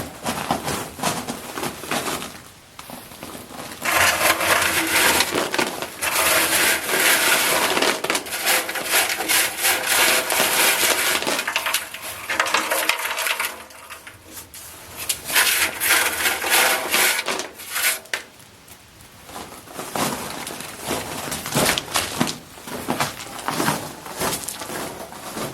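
Aluminum parts tumbling with coarse rocks inside a cement mixer, a continuous loud rattling, grinding churn with rough clattering impacts that swells and dips in waves, with no talking.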